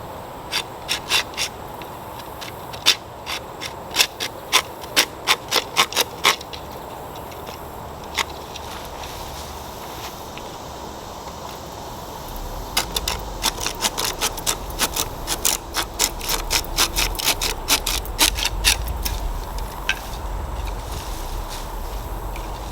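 A bamboo cane pole is cut by hand in quick rhythmic bursts of sharp sawing strokes. Each run has several strokes, with pauses between runs, and the strokes turn denser and steadier toward the end.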